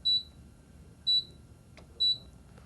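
A Panasonic Sonic Steamer answers three button presses with three short, clear electronic beeps at an even pace of about one per second, with a faint click between the second and third.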